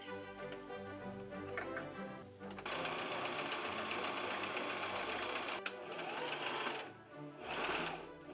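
A sewing machine stitches homemade gloves with a steady, fast mechanical whir and ticking, running in bursts with brief pauses between runs, close and fairly quiet.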